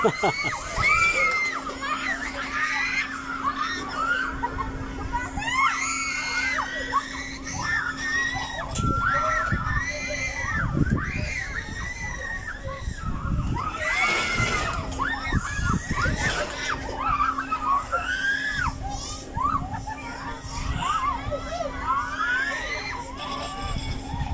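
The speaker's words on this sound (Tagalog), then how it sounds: "mayroon talagang hindi napigilan sumigaw" A crowd by the seaside at Manila Bay shrieks and shouts continuously, excited high-pitched voices overlapping with bursts of cheering and loud peaks, while a steady hum runs underneath.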